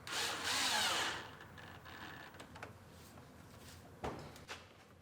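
A power drill whirs in a short burst while driving screws into the radiator support of an Acura RDX, followed by quieter clicks and a sharp knock in a garage.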